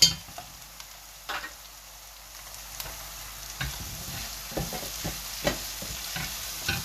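Frozen ginger blocks, minced garlic and a green chilli sizzle in a hot pan for a lamb chop curry, a steady hiss broken by several sharp scrapes and stirring knocks.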